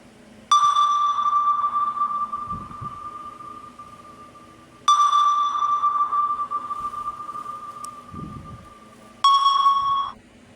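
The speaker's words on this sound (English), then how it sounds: "So next up we have Pink Hound. So let's listen to this." Pink Hound monster from the video game My Singing Monsters sings three long, pure, sonar-like tones, each starting abruptly and holding for several seconds, with faint low rumbles between them and no talking.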